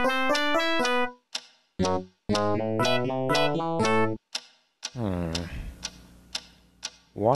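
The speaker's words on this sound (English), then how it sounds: "What is that mysterious ticking noise?" A mysterious ticking noise plays as a series of sharp, bright, evenly spaced ticks with tonal ringing, loud and close, arranged in rhythmic bursts with short pauses between them.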